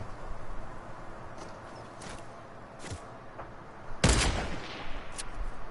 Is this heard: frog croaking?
no